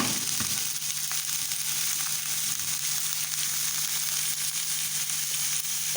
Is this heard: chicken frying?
yes